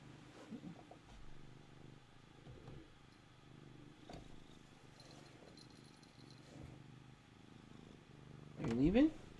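A cat purring indoors, a low continuous rumble that holds steady throughout, with soft speech over it and a louder rustle near the end.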